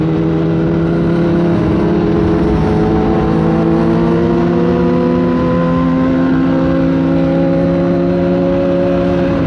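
Kawasaki ZX10-R, ZX6R and Yamaha MT-07 motorcycles ride in a group, their engines droning steadily close by, with several overlapping engine tones rising slowly in pitch for the whole stretch and no talk.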